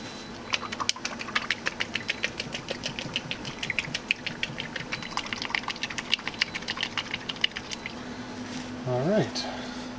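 Paint jars wrapped in paper towel are shaken hard, a rapid steady run of rattling clicks and knocks for most of the time, ending with a brief voice near the close.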